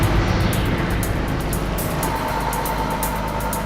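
Heavy truck engine grinding steadily as it creeps slowly around a tight turn, hauling a house off an airport runway in freezing winter; a low, continuous rumble close by with no talk.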